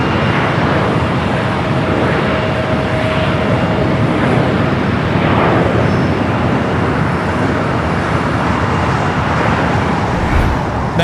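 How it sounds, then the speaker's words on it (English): United Boeing 737-800 airliner landing at Los Angeles LAX, a loud, steady broadband roar of jet engines holding throughout without a break, with no voices. "Flight coming in from Columbus, Ohio, 737-800 with United"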